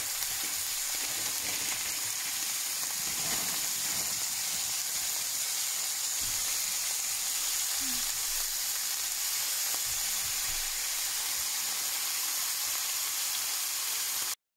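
Broccoli in a pot starting to boil, a steady soft hiss and bubbling simmer that holds evenly throughout, fairly quiet with no talk over it.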